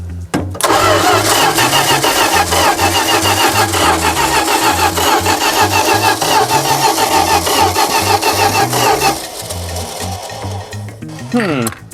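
An old, long-abandoned Dodge D-600 truck engine cranks loudly and steadily for about ten seconds. Its rhythm falters near the end, with a brief rise that suggests it tries to catch, and voices are faintly present.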